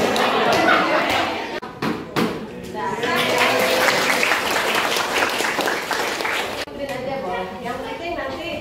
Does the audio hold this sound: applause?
yes